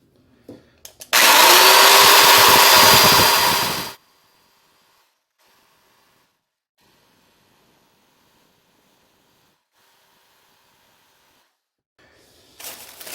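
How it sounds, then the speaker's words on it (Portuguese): A power tool grinds the ends of metal rods to remove burrs, one loud, steady burst of about three seconds that cuts off abruptly, followed by near silence and a brief renewed whir at the end. "vou dar uma polida nas pontas para tirar as rebarbas"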